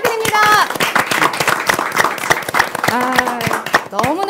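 An audience at a KAIST student vision talk event applauds in brisk, steady clapping, close and loud, while voices call out and chatter over the clapping.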